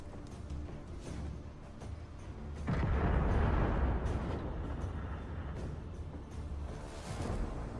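Tank cannon fire from an Object 277 in an online tank battle game, one heavy booming blast with a long rumbling tail that fades over several seconds, preceded by softer distant thuds and clicks.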